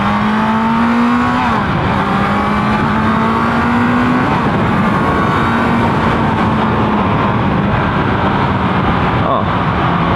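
A 2018 Kawasaki Z900 motorcycle with a 948 cc engine runs loud and close, its steady engine drone rising and dipping in pitch as the rider shifts, with wind noise throughout.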